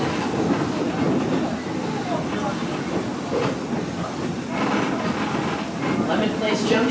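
A Strasburg Rail Road passenger train running along its track, a steady loud rumble with rail clatter and hiss throughout, while a narrator talks over it.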